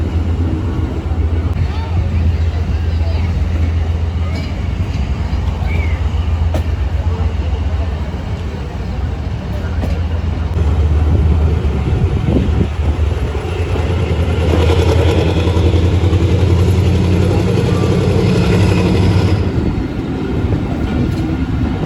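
A train locomotive makes an odd, heavy droning rumble with a low throbbing hum that swells and eases. Carriage noise and a broad roar from the moving train run loud and steady throughout.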